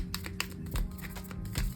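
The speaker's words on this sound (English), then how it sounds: "Let's go ahead and keep shuffling" Tarot cards shuffled by hand close up, a quick irregular run of soft taps and riffling clicks, quiet, with no talking.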